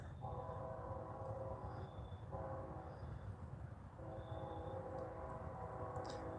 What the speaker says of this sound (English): here we go with the trains